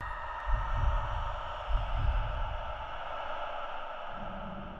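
A simulated heartbeat sound effect in a bleak post-apocalyptic anime score: low, soft thumping pulses in a slow rhythm beneath a steady breathy white-noise hiss, with no voices.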